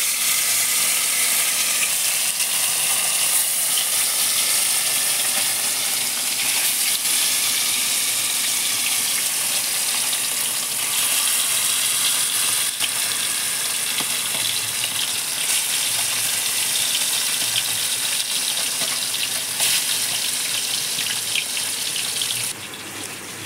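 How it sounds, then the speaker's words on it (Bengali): Fish frying in hot oil for a Bengali sour fish curry, a steady, close hiss and sizzle running continuously and loudly throughout with no talk over it. "তো আমাদের তেল গরম হয়ে গেছে, এবার একটা একটা করে মাছ দিয়ে দেবে।"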